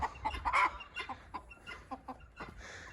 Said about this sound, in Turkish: Şimdi niye gıdaklıyorsun?